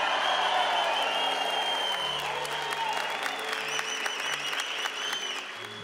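Audience applause at a church mass: dense, sustained clapping from a large crowd filling the whole stretch, with faint cheering and voices mixed in before it slowly tapers.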